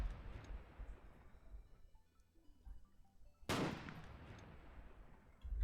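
Gunfire in the war game Foxhole: faint, distant rumbling shots fade out, then a sudden loud crack bursts in with a decaying rumble, followed by scattered battle noise.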